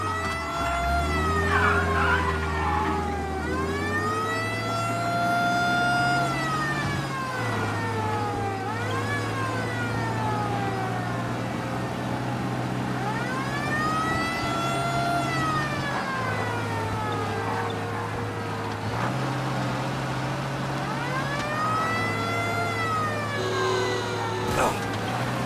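Police car sirens wail during a pursuit in Mafia: Definitive Edition, several rising and falling tones overlapping steadily over engine rumble, with radio chatter running beneath.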